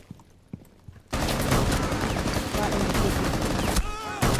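Heavy sustained gunfire in Rainbow Six Siege, a hostage-rescue shootout, erupts suddenly after a quiet stretch of scattered taps and fills the rest of the moment as a loud, dense barrage of overlapping shots.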